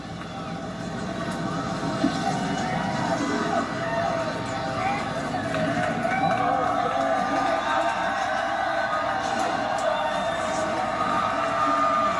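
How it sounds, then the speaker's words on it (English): Steady, dense crowd roar fills a NASCAR Xfinity race venue after Justin Allgaier's victory burnout at the 2022 Tennessee Lottery 250, a broad continuous wash of cheering with no breaks. "To the roar of the crowd here, appreciative of his talents."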